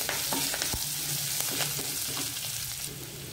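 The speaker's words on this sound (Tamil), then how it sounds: "இப்போ இந்த கடலைப்பருப்பு உளுந்தம்பருப்பெல்லாம் நல்லா பொரியட்டும்." Chana dal and urad dal fry in hot oil with curry leaves for oats upma, a steady close sizzle broken by sharp pops and spatters.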